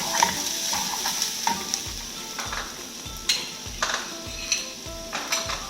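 Chopped garlic sizzles in a pan with onion and pepper, a soft steady frying hiss punctuated by rhythmic scraping stirs and light clinks of a utensil against the pan.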